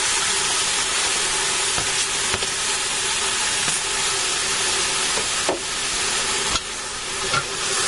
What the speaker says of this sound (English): while my hamburger's browning